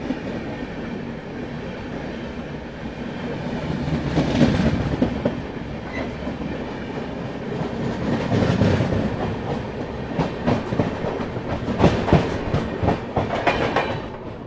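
Onboard the Gorakhdham Superfast Express, steady rolling rail noise fills the whole stretch, with rhythmic clickety-clack of wheels over joints growing busier toward the end.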